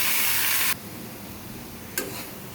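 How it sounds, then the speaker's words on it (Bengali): Potatoes frying in a pan while being stirred, with a loud, bright sizzle that drops suddenly to a softer steady hiss and a brief burst of stirring near the end. "এটা জাস্ট 5 মিনিট এভাবে নাড়াচাড়া করলেই ভাজাটা হয়ে যাবে।"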